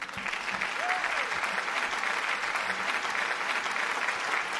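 A festive crowd at a live Danish pop music show claps in steady, dense applause that fills the whole stretch without letting up, with faint voices mixed in.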